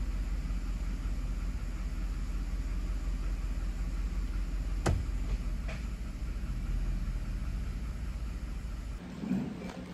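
A Chevy Suburban's engine idles with a steady low rumble while the 6L80 transmission is held a few seconds in each gear, a brief click and a short clunk breaking the drone near the end.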